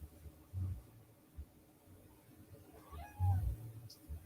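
A house cat meows twice, a short cry followed by a louder, drawn-out one, close by in a quiet room with a faint background hiss.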